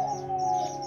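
A brief, soft cooing call from a pigeon, heard alone and fairly close.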